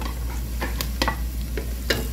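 Red chili stir-fried in a pan for chicken adobo, a steady low sizzle broken by sharp scraping clinks of the spatula at irregular intervals, close and alone without talk.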